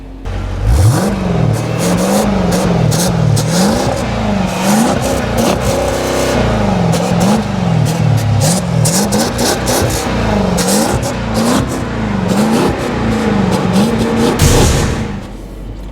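A 2014 Jeep Grand Cherokee SRT, BMW X5 M or Porsche Cayenne GTS SUV surges from a standstill to 60 mph in sport mode with launch control, its engine note climbing loud and steady through repeated gear shifts before easing off.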